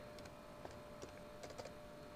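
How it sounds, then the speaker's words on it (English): Quiet, scattered keystrokes on a computer keyboard, a few light clicks in irregular bursts against a faint steady hum. "I'm going to try typing at the same time."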